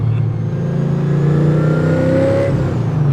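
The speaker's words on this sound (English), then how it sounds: "Just the noise of the whine of that blower." A supercharged classic car of about 35 years old runs loud and close, the engine note holding steady with a high mechanical blower whine riding above it and rising briefly before easing off.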